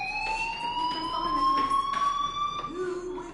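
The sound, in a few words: fire alarm ringing in video game Life is Strange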